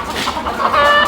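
Desi hens on a village poultry farm cluck softly in a short, continuous stretch of close, busy fowl chatter.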